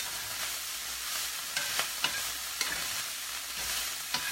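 Onions fry and crisp in a pan while being stirred, giving a steady hiss of sizzling with scattered scraping clicks from the stirring, close and continuous.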